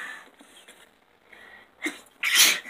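A single sharp sneeze bursts out near the end, loud and close, after a few seconds of faint background noise during a card pack opening.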